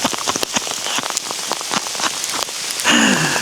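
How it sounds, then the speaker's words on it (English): Heavy rain mixed with hail pelts the ground and cover outdoors in Turkish countryside during a wild boar hunt, a dense, loud, continuous patter with sharper impacts, swelling slightly toward the end. "Listening to the rain coming in."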